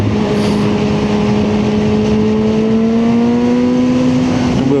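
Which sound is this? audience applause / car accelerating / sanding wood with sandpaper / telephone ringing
car accelerating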